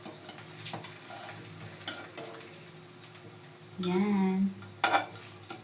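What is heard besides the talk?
spam frying in a pan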